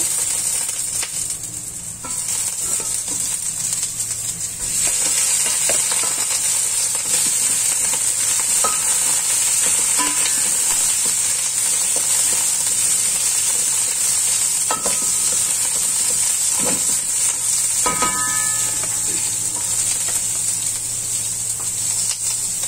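Garlic sautéing in a pan for fish sinigang gives a steady, loud sizzle and hiss throughout, with occasional light stirring scrapes and clicks.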